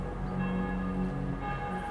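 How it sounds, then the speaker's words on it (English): Church bells ring in Salzburg, a sustained, resonant metallic hum full of overlapping tones that carries continuously at moderate loudness with no talking. "he would hear the church bell as we do today"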